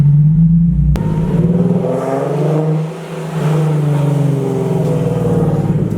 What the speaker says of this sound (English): This is probably the greatest part of having a modified exhaust.